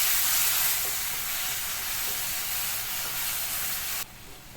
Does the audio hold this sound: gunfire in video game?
no